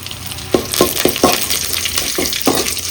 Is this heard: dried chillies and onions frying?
yes